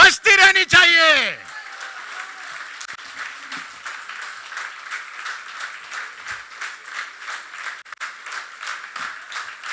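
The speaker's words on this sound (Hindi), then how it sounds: "देवी और सज्जनों, तालियां बजती रहनी चाहिए।" A speech event audience applauds after a speaker's call over a public address, steady continuous clapping filling most of the clip at moderate level, with a brief voice at the very start.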